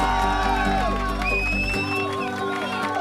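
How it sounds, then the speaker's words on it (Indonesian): Audience at a community fellowship event applauding and cheering: a dense wash of crowd noise with whoops and shouts, partly masked by music with a heavy low bass tone that drops out halfway. "Mari kita berikan tepuk tangan yang paling meriah."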